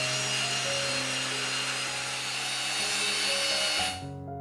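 ALLSOME BG-518801 drill press motor whirring steadily on its first switch-on, a loud, even mechanical hum with tonal whine that holds for several seconds, then drops sharply as it winds down near the end.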